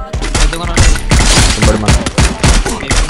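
Gunfire in a mobile shooter video game, played in a tournament on an iPhone 8 Plus. Loud, rapid bursts of automatic shots crack in quick clusters throughout, with no voices.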